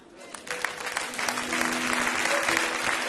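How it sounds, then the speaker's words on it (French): A church congregation at a pastor's sermon breaks into applause that starts thin and swells into dense, sustained clapping, with no voices over it. "Quelqu'un devait applaudir."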